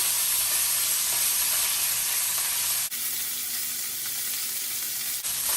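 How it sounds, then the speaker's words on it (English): Aged wagyu strip steak held edge-down in a hot pan, a loud, steady broadband sizzle that drops briefly to a quieter hiss partway through before surging again, with no talking. "So now we're going to take and sear the edge here"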